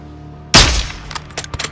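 A single sharp gunshot from Call of Duty: Modern Warfare II cracks loudly and decays over a short tail, followed by a few fainter clicks and thuds of in-game action.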